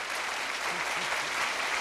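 A television studio audience claps steadily, a dense and even roar of applause with a faint voice briefly underneath.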